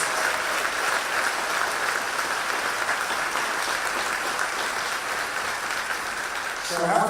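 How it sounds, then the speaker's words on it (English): Sustained applause honoring Howard University students at a DC tourism strategy event, a crowd clapping steadily and continuously at moderate loudness for several seconds. "All right, round of applause."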